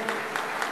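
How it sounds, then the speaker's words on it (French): Brief burst of audience applause at the inauguration of the Grand Mosque of Strasbourg, a dense wash of clapping from a seated crowd heard alone. "Vous pouvez applaudir aussi, mesdames et messieurs."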